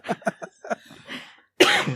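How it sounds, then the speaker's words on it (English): A few short voiced bursts, like laughter breaking into coughs, followed by one loud, harsh cough burst close to the mic. "Every time I laugh, I cough."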